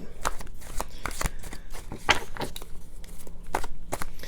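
Tarot cards shuffled and drawn during a reading, heard as a run of close, soft riffles and flicks in irregular bursts, with a brief snap partway through.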